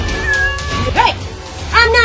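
A cat yowls and meows loudly up close, a drawn-out wail followed by rising, strained cries, with some background noise throughout.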